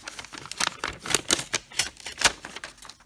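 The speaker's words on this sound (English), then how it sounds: "let me pull this off the adhesive." Paper being peeled away from adhesive backing while die-cutting gilded backgrounds gives a series of close, crackly tearing bursts, uneven in rhythm and fairly loud, with nothing else heard.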